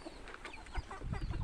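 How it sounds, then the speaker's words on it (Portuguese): Young chicks and hens at their feed on a small farm make a faint jumble of peeping and soft clucks, heard from close by with low rustling underneath. "Olha lá os pintinhos, ó."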